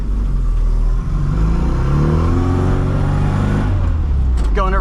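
Engine of a 1965 Austin Mini Cooper S heard from inside while driving, a loud, fizzy carburetor intake roar and rising engine drone that fills the whole clip, with no talk.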